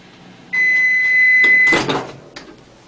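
Microwave oven reaching the end of its cycle: a steady electronic beep tone rings for about a second, then the running hum cuts off with a clunk and a brief rattle, fading to quiet.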